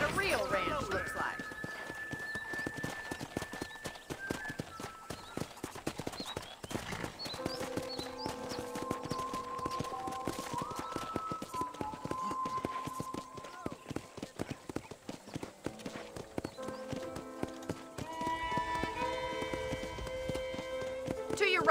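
Horse hooves in Red Dead Redemption clip-clop in a steady trotting rhythm throughout, with background music playing along and a voice talking at times.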